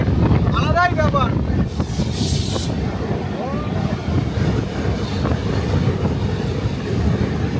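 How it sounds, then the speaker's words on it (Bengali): A train runs through rain near Chakradharpur on the Bhopal–Santragachi Humsafar Express route, giving a steady, loud rumble with wind buffeting the microphone and a brief higher whine or squeal early on. "ট্রেন চক্রধরপুর ছাড়লো আর বৃষ্টিও আমাদেরকে ধরলো"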